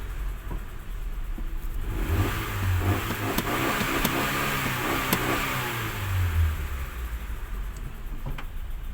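Car engine revving after a timing belt replacement, close idle rising into two smooth revs that climb and fall back, the first around the two-second mark and the second near six seconds.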